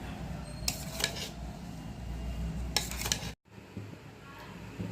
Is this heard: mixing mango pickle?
yes